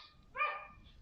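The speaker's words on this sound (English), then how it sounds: "sorry for all the barking in the background." A single short dog bark rings out at a distance on a property full of dogs, faint and brief over quiet background.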